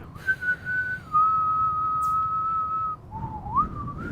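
A person whistles clear, sustained pitched notes, holding one long steady tone before a dip and upward glide, fairly close over a low background murmur.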